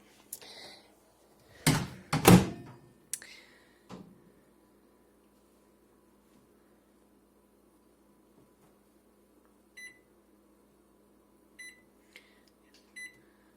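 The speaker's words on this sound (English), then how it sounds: "We're going to place it in the microwave." A few clunks and knocks of a microwave oven door being handled, then several short electronic beeps spaced apart, quiet room otherwise.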